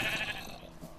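A sheep in the video game Minecraft gives a short, quiet bleat, heard alone and close with a slight wavering tone.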